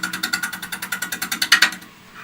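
A woodturning tool cuts wood spinning on a lathe, making a rapid, regular chatter of close, loud pulses for about two seconds before it stops.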